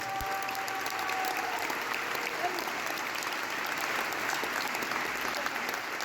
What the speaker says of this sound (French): il y avait Seb, on peut l'applaudir très très fort, s'il vous plaît.